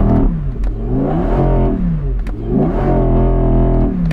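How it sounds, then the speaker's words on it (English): A powerful supercar engine, Audi RS6 or Audi R8, revs up and down in repeated throaty surges, loud and close, with a sharp crackle between pulls. "That sounds like a supercar"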